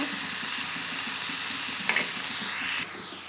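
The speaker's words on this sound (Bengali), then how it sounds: "এখন দুটো পনির তাও ছেড়ে দিয়েছি, হালকা একটু ভেজে নিব" Two pieces of paneer frying lightly in a pan give a steady, close sizzle throughout, with a brief scrape of stirring near the middle; no one speaks.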